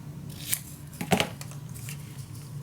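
Scissors cut a strip of material for a pocket die, a few crisp snips close by, the clearest cluster of cuts coming midway, over a quiet room with no speech.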